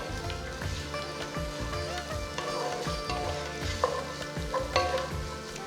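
Slit green chillies frying in hot oil for Telangana bagara rice, giving a steady close sizzle with crackling pops and occasional stirring clatter throughout.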